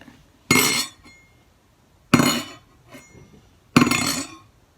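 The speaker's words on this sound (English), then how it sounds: "When you clang the spoon onto the table," A metal spoon strikes a table three times in sharp metallic clangs at even intervals, each ringing briefly before fading, with quiet between them.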